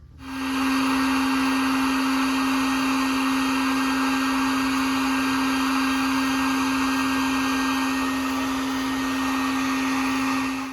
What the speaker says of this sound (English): Get our heat gun out, go ahead and tighten it up.